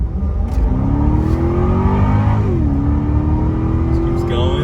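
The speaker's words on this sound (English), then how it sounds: "This car came with a supercharged Northstar V8 engine." A 2006 Cadillac XLR-V's supercharged Northstar V8 revs hard and climbs in pitch as it accelerates, loud and close, with a smooth rising supercharger whine throughout.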